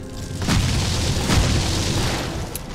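An explosion shot in the video game Torchlight bursts with deep booms, one near the start and another midway, followed by a rumbling blast texture that fades slowly, loud and without speech.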